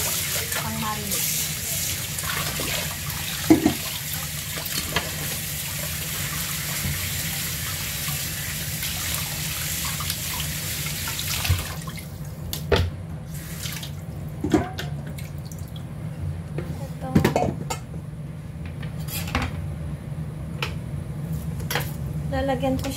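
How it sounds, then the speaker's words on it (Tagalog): Tap water runs steadily into a kitchen sink while chicken drains. The flow is loud at first, then stops, and scattered drips, clinks and handling sounds follow, with a voice speaking in the background. "Habang dinidrain ko yung panok, prepare ko na yung"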